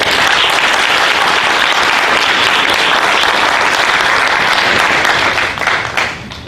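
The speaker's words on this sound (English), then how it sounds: "let's give everyone a round of applause" Loud, dense audience applause fills a closing ceremony hall, a sustained wash of many hands clapping close by that holds steady before fading near the end.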